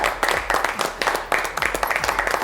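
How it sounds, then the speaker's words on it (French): A television studio audience on a French-language entertainment show greets a guest with a short burst of clapping, quick uneven claps close to the microphones, with a little talk mixed in. "la voix que d'ailleurs nous recevons ici sur ce plateau avec des applaudissements"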